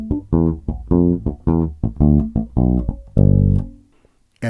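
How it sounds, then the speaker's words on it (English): Bass guitar line played with muted dead notes mixed among pitched notes, giving a choppy, percussive rhythm that ends on a held note. "but adding dead noting, it begins to sound like this."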